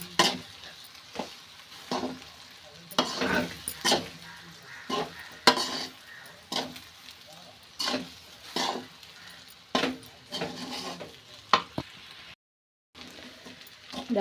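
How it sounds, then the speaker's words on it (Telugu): Leftover rice is stirred into a pan over a medium flame: a steady rhythm of scraping spatula strokes over a low, continuous sizzle, close and fairly loud. "అన్నం వేసుకొని బాగా కలుపుకోవాలి"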